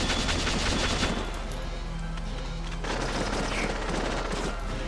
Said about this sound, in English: Oh, God, please stop shooting me!